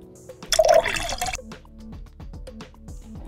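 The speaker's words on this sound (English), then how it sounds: "And then pour in 1/2 cup of melted butter." Melted butter is poured into cupcake batter, a short wet splashing pour followed by faint dripping and light liquid sounds.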